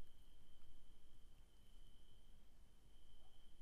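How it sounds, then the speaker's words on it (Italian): Crickets chirp in a quiet room setting, a steady continuous high-pitched trill running throughout under low background noise, with no voices. "ci sono solamente i grilli."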